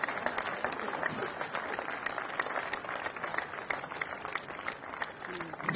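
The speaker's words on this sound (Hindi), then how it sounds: "तालियां जोरदार बजती रहे" An audience at a government launch event for a piped gas scheme reaching villages claps continuously, a dense wash of applause with voices mixed in throughout.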